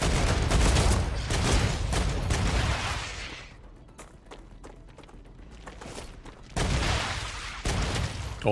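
Gunfire in the video game Star Rupture, dense rapid volleys of shots at close range, a lull with scattered single shots, then another burst of heavy firing.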